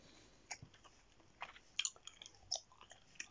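Close ASMR chewing of gum, soft sticky mouth clicks and smacks coming in scattered bursts over quiet background, with no talk.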